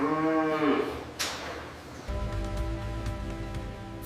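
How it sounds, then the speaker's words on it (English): Dairy cows on a multi-animal farm moo loudly and close by: one drawn-out call, a brief pause, then a second long, steady moo that carries to the end. "Dairy cows are another important source of milk production."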